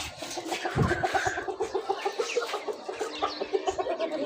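Chickens in a village coop clucking continuously at close range, a busy overlapping chatter of short rhythmic clucks, with a brief louder thump early on.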